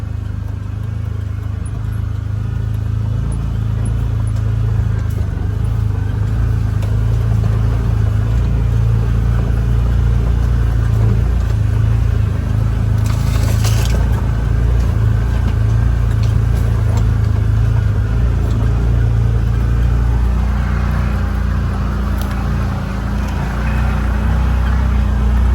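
A car rolls steadily along a familiar path and passes under a tree branch, its engine droning low and continuously close by, with a brief brushing scrape partway through and no talking.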